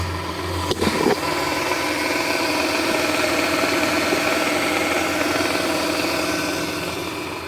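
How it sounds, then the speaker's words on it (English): A Toyota Sienna engine idling smoothly and steadily after a power steering pump replacement, a continuous close hum with no screech, following a brief knock at the start. "That's the engine up and running very smoothly with no problem, no noises anymore."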